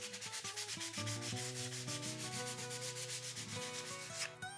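A varnished surface lightly hand-sanded with sandpaper, in quick, even back-and-forth strokes that sound soft and steady beneath a melodic tonal background.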